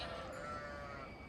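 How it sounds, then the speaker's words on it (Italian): A single faint, drawn-out sheep bleat sounds from a flock arriving at a field, quiet and somewhat distant with no talk. "Pepe, le pecore, sono le pecore."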